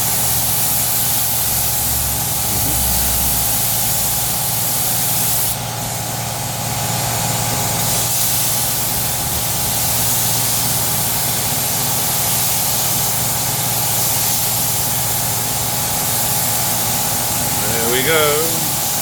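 Spray painting parts of a 1938 SS Jaguar 3½ drophead under restoration: a steady hiss of a spray gun with compressor hum runs continuously, with a brief tonal squeal near the end.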